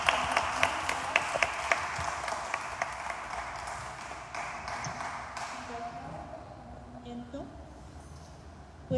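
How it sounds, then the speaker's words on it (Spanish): An audience applauds a doctor, Mtra. Victoria Enríquez Cabrera, at a career recognition ceremony in Chilpa. Dense, loud clapping starts at once and fades over about five seconds, then a voice speaks. "Otro aplauso, por favor, para la doctora."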